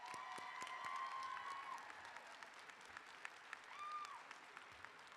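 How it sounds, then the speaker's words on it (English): Audience applause for faculty standing at a School of Nursing commencement ceremony, steady dense clapping from a large hall crowd, with a sustained tonal hum and a brief second tone partway through. "let's applaud them for all that they've done"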